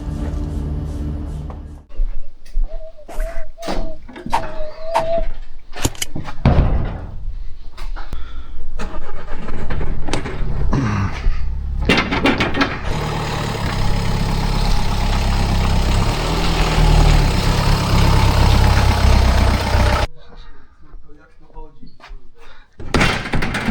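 A Renault Clio IV engine starts and runs with an uneven, rough idle from a fault, loud and close, with a door slam and people talking over it.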